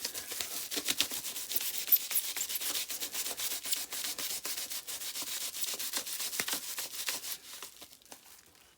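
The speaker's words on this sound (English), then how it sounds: "Now, I will rub rod B with this plastic sheet." A plastic sheet is rubbed briskly along a rod in a rapid series of close, scratchy strokes that continue steadily for several seconds before tapering off.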